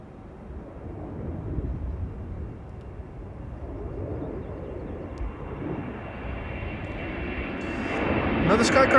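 Aegean Airlines Airbus A321neo departing Amsterdam Schiphol's runway 18 left for Athens, a fairly faint and distant engine rumble that slowly grows louder and nearer toward the end.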